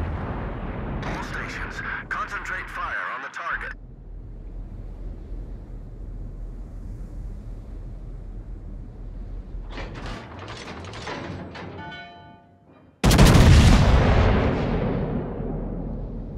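Battleship North Carolina in the World of Warships video game: a low mechanical whir and rumble carries for several seconds before a sudden, loud booming naval gun salvo near the end.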